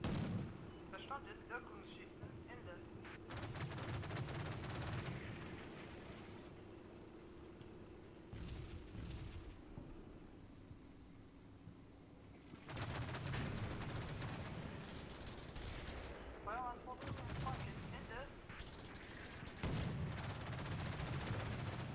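Gunfire in the Combat Mission war game: bursts of shots and heavy blasts come in dense volleys with a short lull mid-clip, loud and sustained, with a voice talking underneath.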